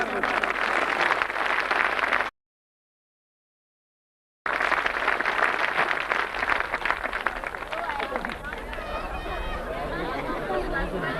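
A crowd at a farmers' rally claps and chatters, with sustained applause and murmuring that drops out for a moment and then resumes, steady and moderately close.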